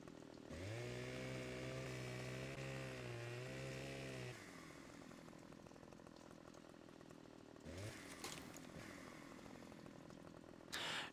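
A chainsaw in Farming Simulator 15 cuts logs in the rain, a steady buzzing whine that holds for a few seconds, drops to a rougher idle, then bursts briefly louder again, with no talk.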